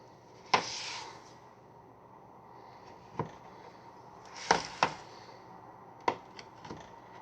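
A knife slicing through chocolate chip scone dough on a board, a few separate sharp taps and thuds spaced a second or two apart, against a quiet background.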